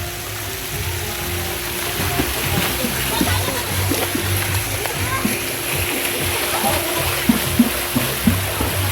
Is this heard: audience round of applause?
no